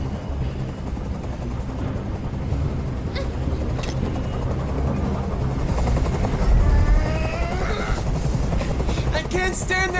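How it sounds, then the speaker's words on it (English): In the video game Detroit: Become Human, a helicopter hovers close by with a loud, continuous rotor thrum, while voices speak over it and fade in and out. "I can't stand that noise anymore. Tell that helicopter to get out of here."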